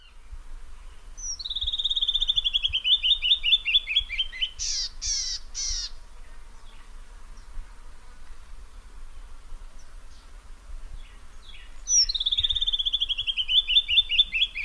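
A canyon bird in Southeastern Arizona sings two loud, clear cascades of descending whistled notes, separated by a short burst of harsher calls, against a quiet background.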